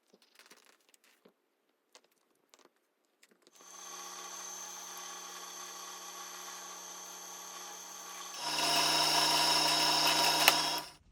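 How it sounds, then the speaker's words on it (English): A drill bores a hole through a tortoiseshell celluloid pickguard for a Telecaster Thinline-style guitar, a steady whining buzz that starts after a few quiet taps, then rises louder and harsher near the end before cutting off abruptly. "we're just going to drill a hole because that's a bit easier"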